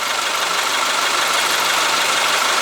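A GMC Sonoma S10 pickup engine idles steadily, a dense, even mechanical hum with faint knocking texture, close and continuous with no voices.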